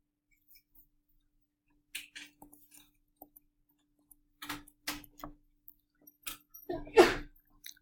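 A single sharp sneeze near the end, preceded by faint clicks and small handling noises in an otherwise quiet room during a math lesson.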